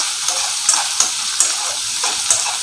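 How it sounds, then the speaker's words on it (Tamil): Onion and garlic sauté in a pan for a Kerala-style kappa curry, with a loud, steady sizzle broken by sharp spatula scrapes and stirs about every half second. "இப்போ போட்ட வெங்காயம் வெள்ளைப்பொடிலாம் ஓரளவுக்கு வதங்கி வந்திருக்குங்க"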